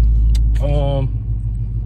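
A Ford Mustang GT fitted with Corsa Performance headers idles with a deep, steady low rumble, close and loud, while someone talks briefly over it.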